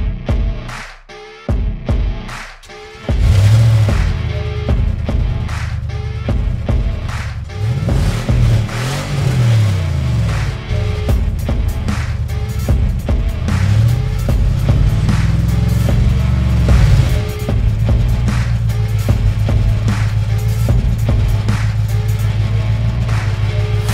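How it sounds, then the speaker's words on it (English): A Mini's engine cranks over and fires up after a short quiet start, then revs loudly in repeated swelling bursts that rise and fall over a steady idle rumble, close by and with no talk. "So let's fire up the mini."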